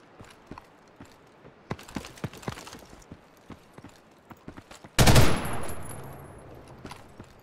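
Gunfire in Ghost in the Shell: First Assault, scattered sharp shots for several seconds followed by a loud burst and a decaying rumble, with no talk over it.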